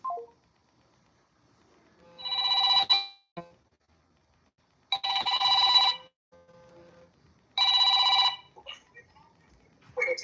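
An outgoing telephone call rings through a handset, three separate electronic ring bursts of about a second each, spaced by silence, with faint background noise between them.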